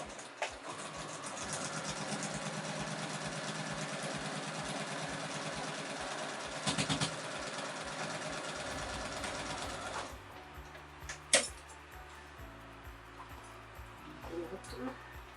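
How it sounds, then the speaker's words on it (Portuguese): A sewing machine runs a straight seam on patchwork and lace, its steady close motor hum and rapid needle rhythm lasting about ten seconds before stopping, followed by quieter handling sounds. "Entra a máquina e já passo aqui costura reta e pezinho legal."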